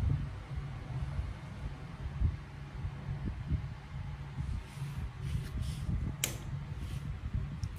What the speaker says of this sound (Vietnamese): Quạt nó chạy cực kỳ là êm nha bác